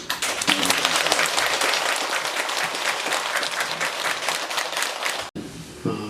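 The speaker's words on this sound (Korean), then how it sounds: "우리 다 같이 큰 박수로 한번" An audience at a Korean Buddhist temple ceremony bursts into loud, sustained applause for a visiting monk. The clapping stays dense for about five seconds and then cuts abruptly to a quieter room.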